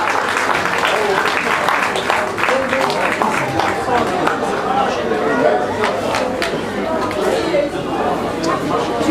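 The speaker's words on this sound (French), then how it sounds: "on peut applaudir Emmanuel" A crowd applauds chocolatier Emmanuel Servant at a chocolate demonstration, scattered clapping mixed with lively chatter and talk throughout.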